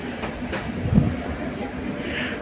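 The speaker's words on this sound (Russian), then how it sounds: "В двухэтажном вагоне едем." Inside a double-decker passenger train carriage on the lower deck, a continuous low rumble of the moving train fills the space, with a faint thump in the middle and soft voices in the background.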